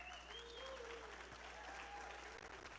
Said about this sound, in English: A big round of applause and thank you to our title sponsor, Mr. Cameron Thorne of BNI Utah North.